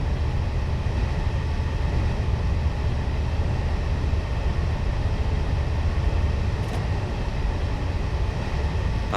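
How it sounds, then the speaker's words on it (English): Class 221 diesel train picking up speed toward 35 mph and then coasting on the Dundee to Edinburgh route in Train Simulator 2015, a steady loud rumble of engine and rails that holds constant throughout with no talk. "I'm going to accelerate up to the 35 mph speed limit, and then I'm just going to idle the power and allow the train to coast"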